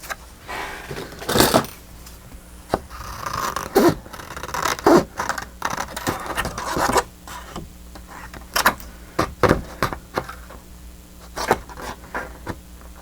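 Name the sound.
sharp serrated scissors cutting paper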